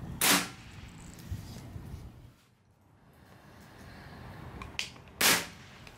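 Two sharp shots from a Crosman 362 .22 caliber multi-pump air rifle, each a loud close crack, separated by about five seconds of quiet.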